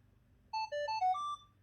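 A Minelab Equinox 900 metal detector's short electronic startup melody of about five clear beeping tones in quick succession, fairly loud over a faint low hum.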